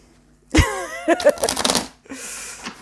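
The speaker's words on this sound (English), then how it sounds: "let's shuffle this bitch." A brief vocal sound comes first, then a tarot deck is shuffled up close in two quick, crisp riffling bursts.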